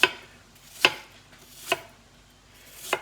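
Apples chopped on a cutting board for apple cinnamon oatmeal, four sharp knife strikes spaced evenly about a second apart, close and crisp, with quiet room tone between them.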